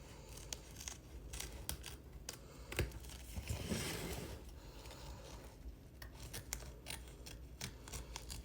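Small scissors trim the fabric edge of an embroidered applique on an in-the-hoop peppermint ornament, giving a quiet run of quick, closely spaced snips with a brief rustle of material midway.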